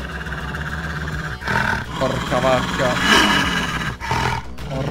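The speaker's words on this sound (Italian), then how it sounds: "Stiamo attenti che sento il lupo." A loud, rumbling wolf roar from the video game Little Red Lie, swelling and sustained over a few seconds, with a voice exclaiming over it.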